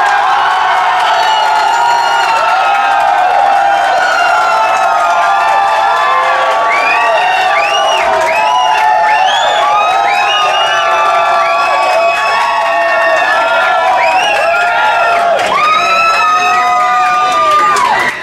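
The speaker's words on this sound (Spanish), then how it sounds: "Que sean fuertes los aplausos para Felipe y Daniel." A studio audience at a televised talent competition cheers, whoops and shouts loudly and without a break, with applause mixed in, keeping the crowd noise dense and steady for the full stretch.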